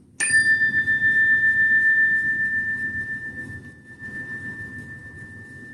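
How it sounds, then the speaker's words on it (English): A single chime rings out once during a kids' yoga session, a bright clear tone with a long sustained ring that slowly fades over several seconds, alone in a quiet room. "think about nothing but the sound of the chime"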